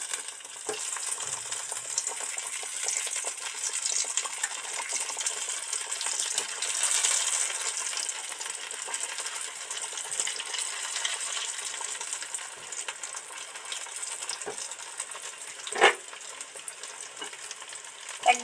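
Mango pakoras eased one by one into hot oil for deep frying, a steady bright sizzle and bubbling throughout, with a few soft plops and clinks near the end.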